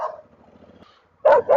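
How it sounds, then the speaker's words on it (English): Dogs bark in two sharp, loud yaps near a motorcycle on a remote road in Sonora, Mexico, following a faint low engine hum. "Got chased by some dogs."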